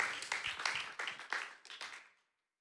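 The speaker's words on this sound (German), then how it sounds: "Gebt den Applaus." A church audience at a Bible Week gathering gives a short burst of clapping in several rhythmic swells, fairly close, tapering off and fading into silence after about two seconds.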